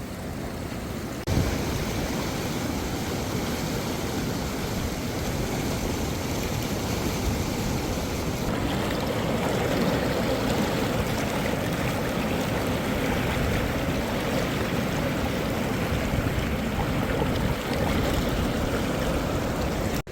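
Clear, mineral-rich mountain stream on the route to Hemkund Sahib, its water flowing over visible stones in a steady, broadband rush that stays close and continuous throughout, with no talking over it.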